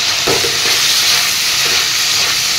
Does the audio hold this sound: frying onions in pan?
yes